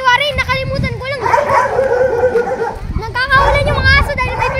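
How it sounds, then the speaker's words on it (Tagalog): Dogs bark in repeated bursts at a birthday party, loud and close, with a pause in the middle, while children and adults chatter underneath. "Nagkakawalan yung mga aso dahil may birthday."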